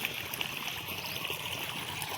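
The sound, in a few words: irrigation water flowing into a field bed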